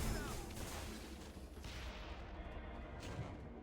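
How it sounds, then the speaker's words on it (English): Rapid gunfire from the video game Fuse rattles continuously and loudly throughout, dense bursts overlapping with a fuller crack at the start. "the gunfire has definitely got a resistance vibe to it"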